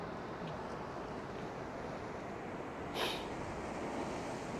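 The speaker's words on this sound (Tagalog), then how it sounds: "Puting-puti na yung tubig dahil sa hampas ng alon, no?" Ocean surf breaking on the shore at Port Elliot, South Australia, makes a steady, fairly faint wash of broadband noise with a brief brighter hiss of spray near the end, no talking.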